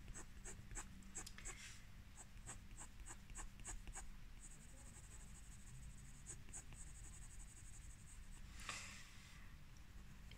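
Pencil drawing on coarse-grained paper: steady scratchy strokes with firm pressure, repeated rapid rasping bursts close up, alone without talk.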